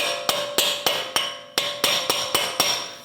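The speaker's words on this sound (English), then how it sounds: "Using a punch and a hammer, we're going to make sure that our axle is free inside of our hub" A hammer strikes a punch against a CV axle seated in the wheel hub of a 2011-2027 Dodge Durango 5.7L V8, giving nine sharp metallic taps in a fairly steady rhythm, close and clear with no talking.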